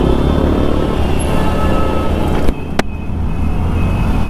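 A TVS Ntorq 150 scooter with a 150 cc engine rides through city traffic, its steady engine drone and road rumble continuous throughout, with a couple of brief sharp knocks near the middle.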